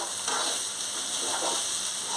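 Rice mixed with mung, masoor and black gram lentils is stirred in a frying pan, giving a steady close hiss and soft scraping for a couple of seconds with no talking.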